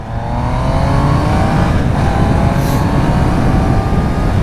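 A Triumph Trident 800 motorcycle engine roars close by, its pitch climbing steadily as it accelerates, loud and continuous for several seconds.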